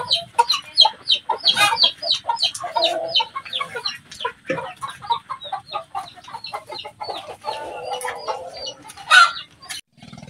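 Many chickens clucking and squawking close by, a busy overlapping chorus of short calls with occasional louder cries.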